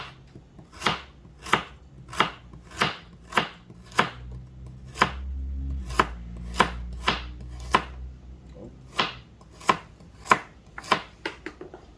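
A knife chops carrots into thin angled slices on a cutting board, about twenty sharp, evenly spaced taps in a steady rhythm, close and clear with no talk.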